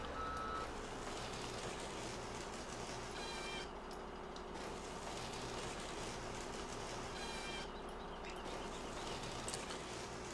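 A steady, low truck engine rumble in a lumberjack video game drones on continuously with a faint high beeping tone and scattered background noise; no voices.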